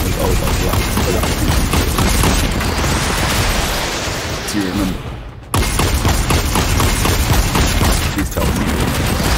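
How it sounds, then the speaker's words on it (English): Large explosions and bursts of gunfire from the Fortnite video game roar almost without pause, loud and dense, with a short dip midway. A person talks over the battle noise. "I have large explosions, I can't hear you"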